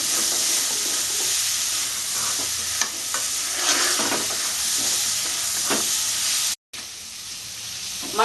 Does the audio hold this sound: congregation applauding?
no